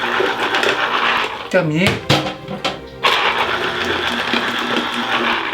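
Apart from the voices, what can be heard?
electric citrus juicer pressing lemon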